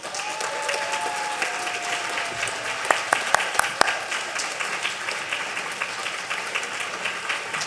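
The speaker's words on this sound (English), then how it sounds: "Please join me in giving a huge round of applause" Audience at a community tenth-anniversary celebration bursts into loud, sustained applause, dense clapping from a sizable crowd, with a few sharper individual claps standing out near the middle.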